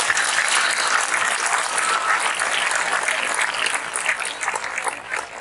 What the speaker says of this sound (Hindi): मैं चाहूंगा कि आप सब बहुत जोर से ताली बजाकर ये साबित करें कि बहुत अच्छा प्रोग्राम था